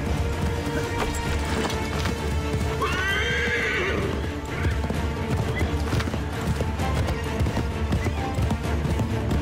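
A horse gallops with rapid clip-clop hoofbeats in the video game Assassin's Creed III, a neigh rising midway above the running hooves, alongside game sounds.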